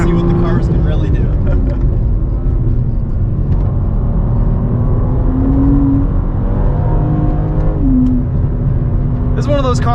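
A 2023 BMW M4 CSL lapping a race track gives a loud, constant engine drone that rises and falls with shifts and throttle, heard from inside the cabin while a driver talks over it.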